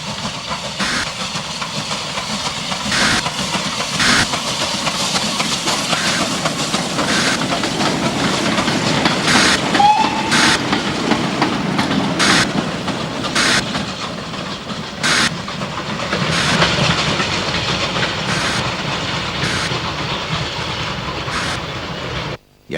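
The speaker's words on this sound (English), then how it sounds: "Following behind, one of the line's 4 Spanish-built Engerth-type locos, which dated from the 1950s." A Spanish-built Engerth-type narrow gauge steam locomotive from the 1950s hauls a train, with loud sustained hissing steam and rumble punctuated by regular, evenly spaced exhaust chuffs over about twenty seconds.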